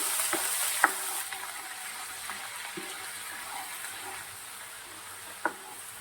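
Cumin seeds and ginger-garlic paste sizzle in hot oil, a soft continuous crackling hiss with a couple of sharp pops, heard alone without any voice.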